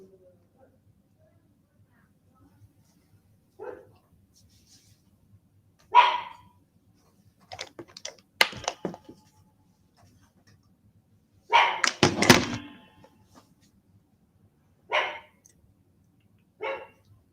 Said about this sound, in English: He just barks more than any pup I've ever seen.